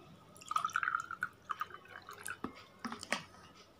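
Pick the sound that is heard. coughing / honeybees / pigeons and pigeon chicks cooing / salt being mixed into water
salt being mixed into water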